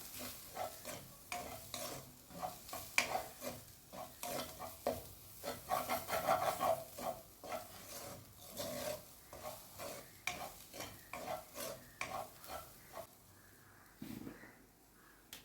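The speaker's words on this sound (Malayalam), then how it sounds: "പൊടികൾ ചേർത്ത് കൊടുത്തതിന് ശേഷം അതിൻ്റെ പച്ചമണം മാറുന്നത് വരെ ഒന്ന് വഴറ്റി കൊടുത്താൽ മതി" A spoon scrapes and stirs okra masala with spice powders in a pan as it sautés, making rhythmic repeated scraping strokes with a light sizzle underneath, close and moderately quiet, ending in a short pause.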